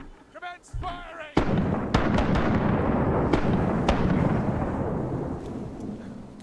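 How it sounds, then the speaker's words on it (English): Voices speak briefly, then a heavy ship cannon broadside in a pirate video game booms and rumbles on in a long, thundering roll with scattered sharp cracks. "I like the sound of the cannons, yes."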